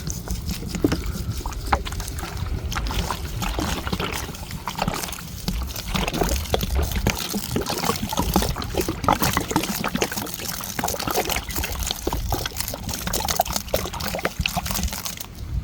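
Water from a four-litre batch is poured steadily onto coco peat and sphagnum moss for a new tank setup, giving a continuous trickling, splashing flow with no talking.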